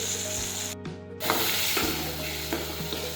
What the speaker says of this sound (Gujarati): હવે થોડી વાર આપણે તળવા દઈશું.